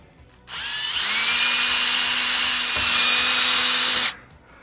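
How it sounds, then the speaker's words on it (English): A power drill bores a hole through a rear A-arm on a 2019 Arrma Kraton V4 RC car, a single loud, steady whining run of about three and a half seconds with no talking. "So I'm going to be drilling a hole through the A-arm that's about that size hole"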